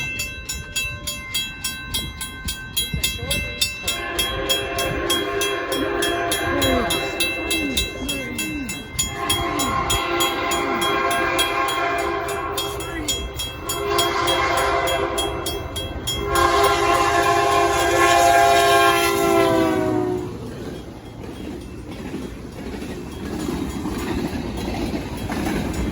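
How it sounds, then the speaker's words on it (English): A train passes close by with several long, loud horn blasts, wheels rumbling and clattering beneath, and the horn pitch sliding down as it goes past before the rolling noise carries on. "Let's go! Trains! Holy shit! Trains!"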